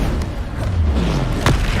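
Depulsor spell cast in Hogwarts Legacy: a low booming thump with a short sharp impact near the end, over a dull rumbling game background.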